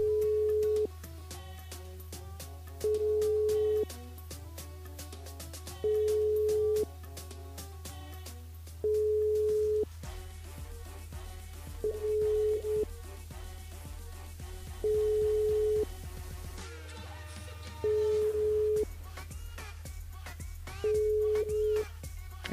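A telephone ringing tone repeats during a live radio call, about eight regular electronic beeps spaced roughly three seconds apart over a low steady hum, with faint background music and studio sounds.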